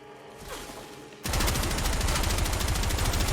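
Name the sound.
Gotva Prime rifle gunfire in a video game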